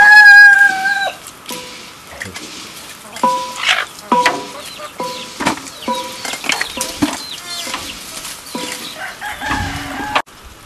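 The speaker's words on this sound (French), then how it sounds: "Je crois que c'est le plus beau coq que j'ai vu en Afrique." A rooster in northern Togo crows and clucks close by, with a loud crow at the start followed by a run of sharp, irregular clucks and wing flaps across a dry farm setting, with no talking.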